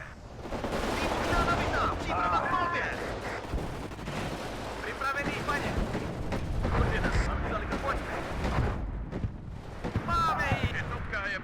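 Rocket artillery fires on French paratroopers in the real-time war game WARNO, making a dense, continuous roar of launches and explosions with booming low rumbles that runs the whole time.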